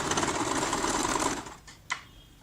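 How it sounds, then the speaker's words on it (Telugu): A sewing machine stitches the reverse side of a baby frock, its steady close whirring motor running for about a second and a half before stopping, followed by a single brief click. "ఇలా రివర్స్ సైడ్లో ఇలా వేసుకొని ఒక స్టిచ్ వేసుకోవాలి"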